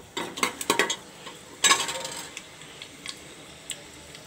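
Urad and chana dal lightly roasting in a pan, heard as a quick run of light clinks and scrapes of a spoon against metal, then a sharper clatter followed by scattered faint taps.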